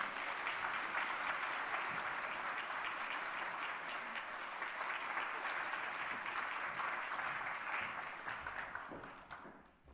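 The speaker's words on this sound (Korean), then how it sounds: "우리 큰 박수로 축하하겠습니다." Congregation in a church service applauds together: a dense, steady wash of clapping that holds for several seconds, then thins and fades out at the end.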